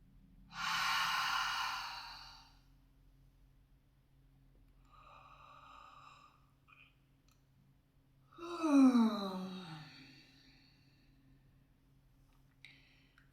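Slow, conscious deep breathing: a long airy inhale, a quieter faint breath after, then a strong exhale with a sighing, moaning tone. Close and unhurried, with long silent gaps between breaths and no talking.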